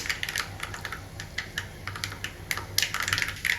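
Mustard and cumin seeds spluttering in hot oil in a pan, the tempering for tamarind poha, heard as irregular sharp crackles and pops close by, alone without talk.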